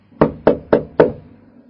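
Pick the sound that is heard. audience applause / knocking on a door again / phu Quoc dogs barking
knocking on a door again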